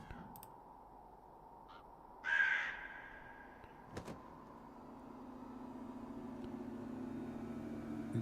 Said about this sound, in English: Another crow?